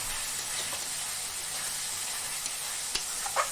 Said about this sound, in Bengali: আবারও মিনিট 2 ভালো করে ভেজে নেব।